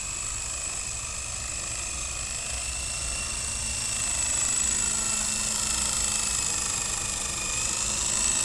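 Blade CX4 remote-control helicopter flying outdoors, with a continuous high-pitched rotor whine and motor buzz that holds steady and rises slightly in loudness as it draws closer.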